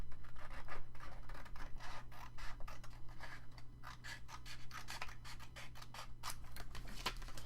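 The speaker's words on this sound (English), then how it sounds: "we'll cut on the inside of the ink line so we can get that cut" Scissors snip steadily through paper along an ink line in close, rapid repeated strokes with a faint rasp, crafting an expandable envelope file; no talking.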